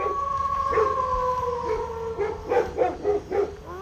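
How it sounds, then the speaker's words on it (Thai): Several dogs howl in long sustained cries, then break into a rapid series of loud barks near the end, close and overlapping. "ไอ้พวกนี้จะเห่าอะไรกันนักันหนาเนี่ย"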